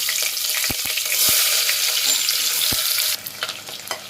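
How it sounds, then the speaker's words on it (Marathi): Chopped onion hits hot oil in a pressure cooker for a spicy mutton curry, giving a loud, steady broadband sizzle with a few sharp spoon or lid clicks, easing off slightly near the end. "आता कुकरमध्ये मी कांदा तेल घातलेलं आहे आणि तेल आपलं गरम झालेलं आहे आता ह्याच्यामध्ये आपण कांदा घालूया"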